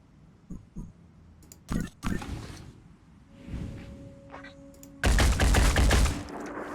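Gunshots in the turn-based strategy game Phoenix Point: a few scattered single shots, then a loud, sustained burst of rapid gunfire near the end, over faint background game sounds.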